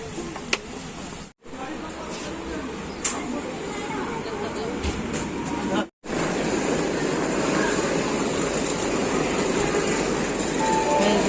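A passenger train stands at a hot station platform, giving off a steady, loud rumble and hiss with a few sharp clanks. Voices talk over it throughout, and two brief dropouts break the sound.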